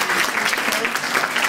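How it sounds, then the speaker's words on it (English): Sustained applause from an audience at a school science class event, steady dense clapping filling the whole stretch at fairly loud level. "I think we need another big round of applause"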